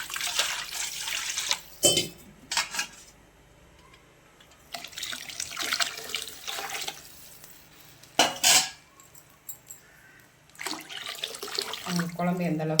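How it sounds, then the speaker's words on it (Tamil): Water is poured into a pan of sardine curry being cooked at home, with bursts of running, splashing water between clinks of metal utensils against the pan, close by and moderately loud. "தேவையான அளவு தண்ணி அலசி ஊற்றிக்கலாங்க."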